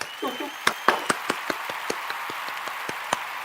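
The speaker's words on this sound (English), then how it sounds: "Clap, clap." A handful of separate claps ring out at an event wrap-up, sharp distinct hits spaced irregularly rather than a full crowd, with faint voices in the background.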